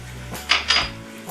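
A utensil clatters against a pan as jaggery is stirred into a small-fish curry, giving two or three close metallic scrapes and clinks in a short burst.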